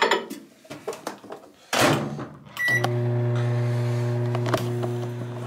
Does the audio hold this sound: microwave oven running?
yes